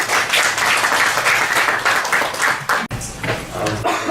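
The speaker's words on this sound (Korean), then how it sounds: "박수 부탁드립니다." Audience applause welcomes a lecturer at a Korean real estate market seminar: dense, steady clapping from a full room, with a brief dip near the end before the clapping resumes.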